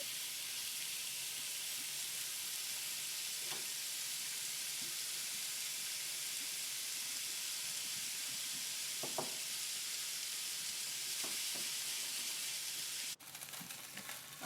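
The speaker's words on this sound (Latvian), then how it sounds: "Cepu uzkrasētā pannā ar eļļu, kur iepriekš cepu sīpols." Steady sizzling of food frying in a pan with oil previously used for onions, a continuous hiss with a few faint clinks and stirring sounds.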